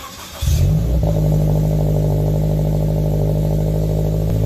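A Scion FR-S, Subaru BRZ or Toyota GT86 fitted with an N2 aftermarket exhaust starts up with a sudden bark and settles into a loud, deep, steady idle with a burbling, throaty drone, close and without talk.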